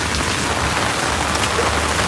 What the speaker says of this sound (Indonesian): Hujan besar, pantainya pas lagi hujan.